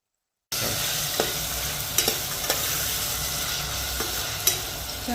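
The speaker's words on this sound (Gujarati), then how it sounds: "તેલમાં ડુંગળી, લસણ ને બધું ચડી ગયું બટાકાની" Onion, garlic and potato cooking in hot oil with a continuous close sizzle that starts after a brief silence, punctuated by several sharp spoon-against-pan stirring knocks, with no talking.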